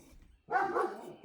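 A single short bark from a dog being let outside, fairly close and moderately loud after a near-silent moment.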